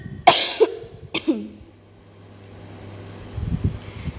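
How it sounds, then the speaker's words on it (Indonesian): Two harsh, loud coughs close to the microphone, the second followed by a short throaty rasp, then quiet rustling noise. "lagi batuk banget"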